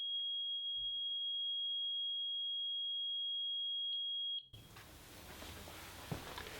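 Pyronix Enforcer wireless alarm exit countdown: a steady high-pitched tone held for several seconds, then brief beeps before it cuts off, leaving faint room noise and handling sounds.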